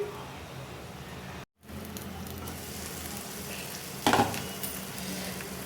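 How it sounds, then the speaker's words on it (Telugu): Masala and chili powder fry in a covered pan for potato curry, a soft steady sizzle with a brief dropout and a sharper clink of metal near the end. "ఇలా మూత పెట్టుకొని ఫ్రై చేసుకోవాలండి"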